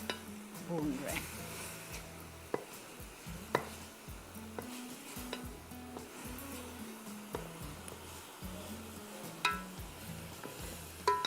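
Grated carrots for gajar ka halwa roast in a pan while being stirred, soft sizzling under scraping spoon strokes and occasional clinks of utensil against the pot, with low background talk.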